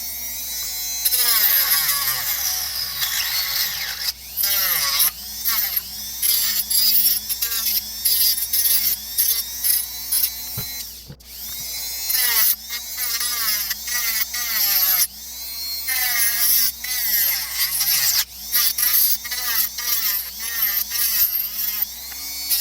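Power tool buzzing as it shaves plastic off a Spider-Man web shooter prop, loud close whirring in repeated bursts that rise and fall in pitch, with brief pauses between passes.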